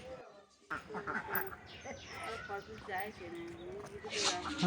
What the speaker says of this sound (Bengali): হাঁস মুরগিগুলো ভয় পাচ্ছে কোন দিকে যাবে ঠিক করতে পারছে না